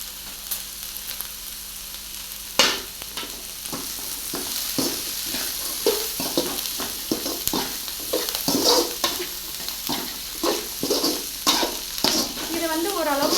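Carrot, beans, cabbage and capsicum sauté in a pan for cauliflower Manchurian, giving a loud, continuous sizzle broken by frequent rhythmic stirring scrapes and clinks of a spoon against the pan.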